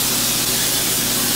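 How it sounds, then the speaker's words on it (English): A steady, loud hiss of cooking spray held continuously for over a second onto a baking sheet, close by. "So spray your sheet."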